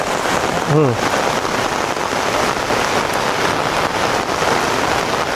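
Rain pours onto a house construction site, a loud, dense and continuous hiss of drops hitting surfaces throughout, with a brief human vocal sound near the start and no clear talk.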